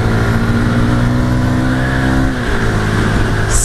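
Honda CB300 motorcycle with its stock exhaust riding at night, a loud steady engine drone with a sustained low hum and faint road noise, close and continuous, no talk.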